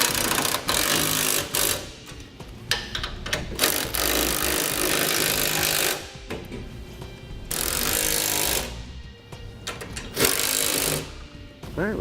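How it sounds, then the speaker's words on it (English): Nuts being snugged onto studs with a power tool while a Curt trailer hitch receiver is installed on a 2016 Ram ProMaster, giving loud, sustained rattling and buzzing bursts with brief pauses between runs. "we'll start snugging down our hardware"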